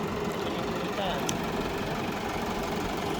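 A steady low tractor engine rumble idles continuously and evenly throughout, close and moderately loud.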